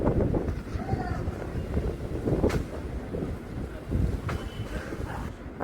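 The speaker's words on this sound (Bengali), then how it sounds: "ফেরার পথে দেখো গাইস তোমরা কতটা ঝোড়ো হাওয়া দিচ্ছিল ওই সময়।" Strong gusty wind buffets the microphone outdoors on the way home. It makes a loud, continuous broadband roar that swells in slight surges and never lets up.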